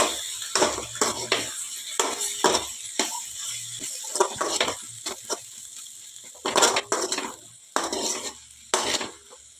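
A spoon stirring a tender jackfruit snack mixture in a pan, scraping and clattering in irregular bursts with a soft sizzle underneath, close and fairly loud.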